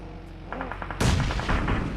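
Grenade blasts and gunfire in PUBG Mobile during an esports grand final, a run of quick shots followed by a heavy, loud explosion partway through.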